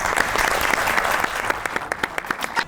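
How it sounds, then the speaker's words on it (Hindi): Studio audience on a Pakistani TV comedy show applauds as a music performer is introduced, a loud full burst of clapping that thins into scattered sharper claps toward the end. "आपकी बहुत सी तालियों में"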